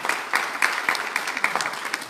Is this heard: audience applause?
yes